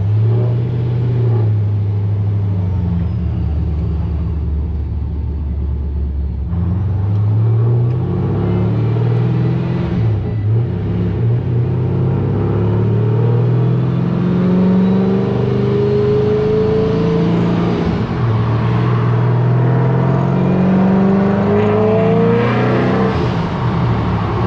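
A supercharged Pontiac GTO with an LS engine running on E85 drives off, its deep engine rumbling loud and close, then revving up and easing off in rising and falling pulls.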